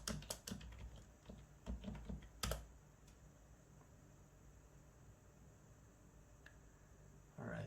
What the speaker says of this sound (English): Let's type in the new password.